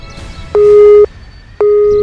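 Two steady electronic phone tones sound after dialing a number whose phone is switched off, each lasting about half a second, loud and clean over a quiet background.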